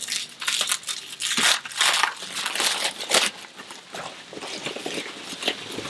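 Plastic wrapping crinkles and tears as it is cut and pulled off new Royal Enfield Himalayan motorcycle pannier racks, with repeated close, crisp rustling bursts and crumpling in irregular pulls.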